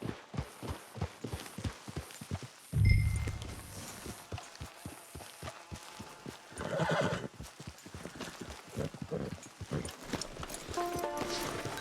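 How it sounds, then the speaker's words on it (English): Horse hooves clip-clop steadily on a path in the Red Dead Redemption video game, a close rhythmic trot with a whinny around the third second, under game ambience and music. "Get your horse."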